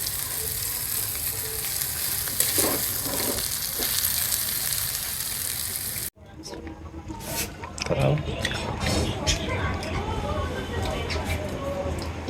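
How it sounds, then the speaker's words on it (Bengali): Cabbage and mustard greens fry in hot oil with fish, garlic, onion and green chillies, a close steady sizzle that briefly cuts out, then resumes with stirring and a voice speaking nearby. "শাকগুলো দিয়ে দিচ্ছি।"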